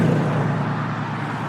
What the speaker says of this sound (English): The car noise on Emily Carr.